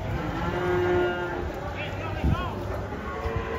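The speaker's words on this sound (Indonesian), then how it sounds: "Dua sapi kecil bertenaga ekstra." Cattle mooing, with one long low moo early on and a shorter call later, set against steady farm background noise.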